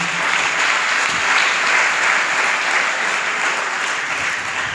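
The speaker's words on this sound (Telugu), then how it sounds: "గట్టిగా చప్పట్లు కొడదాం." A church congregation claps loudly together during a pastor's sermon, a dense, steady wash of many hands sustained evenly throughout with no pauses.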